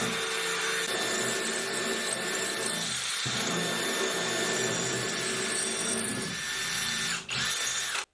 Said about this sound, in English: I'm going to just drill all the way through, and to do that I'm using a masonry bit